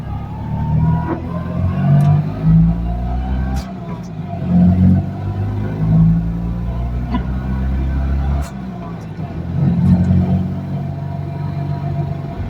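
A Fiat 126p towing a Niewiadów N250c trailer pulls away, its small engine rumbling low and rising as it accelerates, steady and close throughout with brief dips between gear changes.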